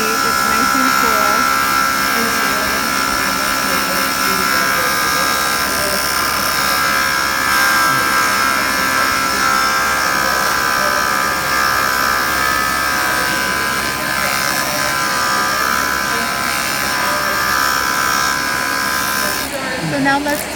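A JOOLTOOL grinder whirs steadily and close as a bevel on dichroic glass is ground smooth, a continuous high-pitched buzz with someone talking over it.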